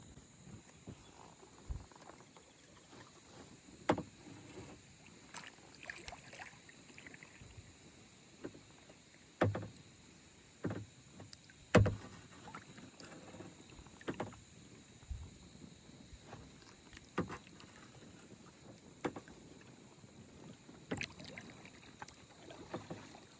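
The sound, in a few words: paddling a kayak on the Des Moines River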